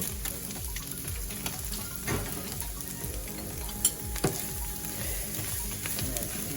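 Bread cubes are stirred with broth for low-carb vegan stuffing, a soft wet sizzle and repeated scraping stir strokes with faint clicks, fairly quiet throughout.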